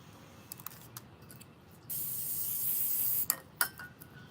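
Hairspray sprays in one steady hissing burst of about a second and a half, close and loud, with small clicks and rustles before and after it.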